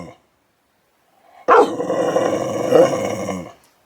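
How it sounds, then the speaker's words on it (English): A dog close by lets out a loud, drawn-out bark that stretches into a long, whining vocal call, after a moment of quiet. "That's my dog Penny."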